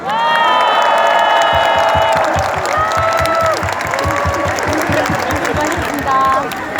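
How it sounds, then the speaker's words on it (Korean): A large crowd at a candlelight protest rally in Korea claps and cheers loudly, with dense steady applause, rising shouts and whoops close by filling the whole stretch. "옆 사람의 얼굴을 보면서 힘찬 박수와 함성을 부탁드리겠습니다."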